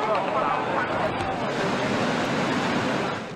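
Strong wind from Typhoon Hato in Hong Kong roars as a dense, steady rush, with voices faintly mixed in beneath the gusts.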